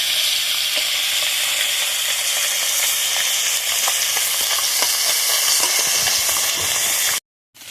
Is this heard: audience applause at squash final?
no